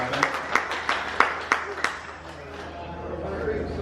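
Audience clapping for volunteers at the DFW Ham Expo 2023, a short burst of scattered claps that quickly fades, with a voice speaking over it.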